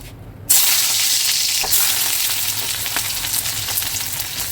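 Green chillies drop into hot oil left from frying eggs, setting off a sudden loud sizzle that stays strong and steady, with faint stirring crackles, close up.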